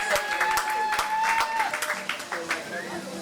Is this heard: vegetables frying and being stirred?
no